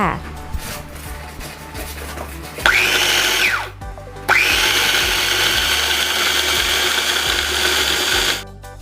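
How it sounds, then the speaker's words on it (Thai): A kitchen blender purees steamed apple for baby food, whining loudly and steadily close by, cutting out briefly before starting again and running several more seconds before stopping. "ปั่นเสร็จเรียบร้อยแล้วนะคะ"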